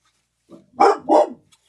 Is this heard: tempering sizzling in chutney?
no